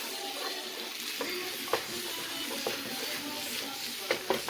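Shrimp fried rice fries in a very hot pan with a constant close sizzle, punctuated by sharp clicks and scrapes of stirring near the end.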